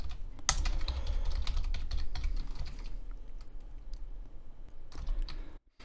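Steady clatter of typing on a computer keyboard while editing CSS code, close and continuous with dense key strikes, a brief pause near the end.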